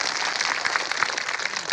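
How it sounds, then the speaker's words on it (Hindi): A crowd at an outdoor land-rights protest rally applauds for women's strength, steady dense clapping from many hands heard at a distance, with no voices over it. "एक बार नारी शक्ति के लिए जोरदार तालियां बजा दीजिए"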